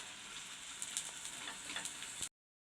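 Coconut-filled wheat flour poli sizzles in oil on a pan, a steady frying hiss with occasional crackles and pops, close and continuous before cutting off abruptly.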